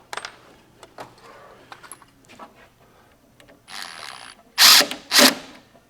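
Socket ratchet tightening a bolt on a 1957 VW Beetle, producing rapid clicking pawl runs, first faint and scattered, then loud, close bursts of ratcheting near the end, with no talking.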